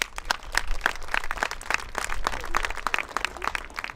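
An audience applauds the participants of a collective spray-painted neighbourhood mural in Le Poulfanc with steady, dense clapping from a modest crowd, close and continuous for the whole stretch, with no voices over it.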